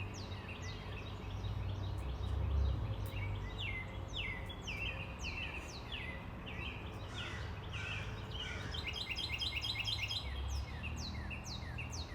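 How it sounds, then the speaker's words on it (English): Several birds chirp and trill outdoors, some in quick repeated bursts, over a steady low background hum. "the birds are out today"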